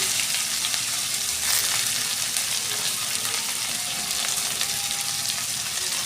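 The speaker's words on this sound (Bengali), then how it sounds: "এখন এগুলিকে আমরা একটু ফ্রাই করে নেব পেঁয়াজ এবং লঙ্কাগুলিকে" Sliced onions and green chilies fry in a pan with cumin, cinnamon and cardamom, producing a constant close crackling sizzle with occasional stirring scrapes and no talking.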